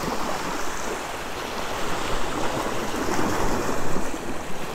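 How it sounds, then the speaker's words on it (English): Ocean surf breaking steadily on a beach during saltwater surf fishing, a continuous broad wash of waves rising and falling with no voices. "These waves, water, it's just relaxing."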